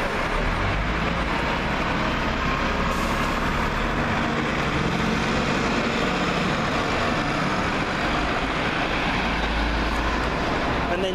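West Bromwich bus arriving around the corner from Lichfield: a steady loud rumble of engine and road traffic, dense and continuous with no clear gaps.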